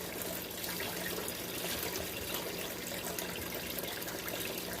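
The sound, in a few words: water flowing over material stirred on a Miller gold table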